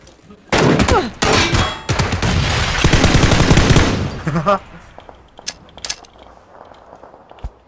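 Loud, close automatic gunfire in a shooter video game, with dense sustained bursts for about four seconds that then thin out to a few scattered shots.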